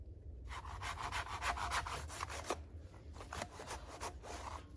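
A hand saw rasps through a standing tree trunk in steady back-and-forth strokes, fairly quiet and close, with no talking.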